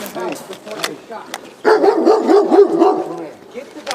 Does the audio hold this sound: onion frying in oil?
no